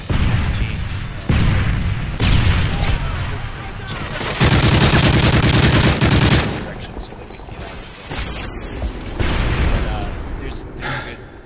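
Gunfire in a Search and Destroy video game match, loud close bursts of automatic fire and single shots in rapid clusters, with talk heard over the shooting.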